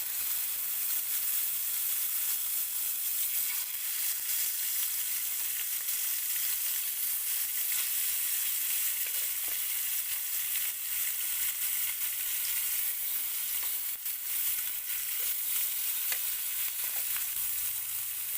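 Fish fries in hot oil with a steady, dense crackling sizzle, close and continuous throughout, broken only by occasional louder pops.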